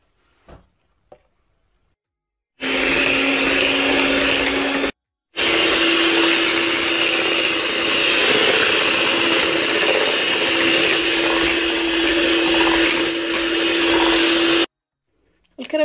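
An electric mixer whips chilled cream for a cream mille-feuille, a steady loud whirring drone that runs for about twelve seconds with one brief pause, alone without talk.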